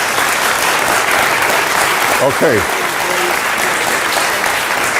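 Audience applause at a live political talk event, a steady loud wash of clapping throughout, with a brief spoken word over it.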